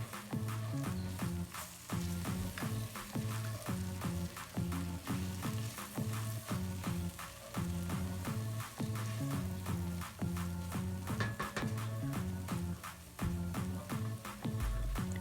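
Mushroom gravy with flour stirred in a pan, a fast, regular run of spoon scrapes and taps against the pan over a low sizzle, continuing throughout.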